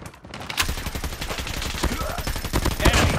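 Dense, continuous gunfire in Call of Duty Mobile, with rapid overlapping shots and bursts that grow louder toward the end.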